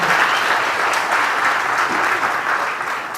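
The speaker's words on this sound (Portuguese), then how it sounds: "Eles merecem uma salva de palmas." Warm, continuous applause from a church congregation fills the room, a thick wash of many hands clapping together at an even level throughout.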